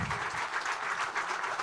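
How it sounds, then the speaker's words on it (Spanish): Sustained clapping from a seated audience at an economic outlook lecture, dense and steady at moderate loudness with gentle swells, no voices over it. "un aplauso más grande para Vittorio"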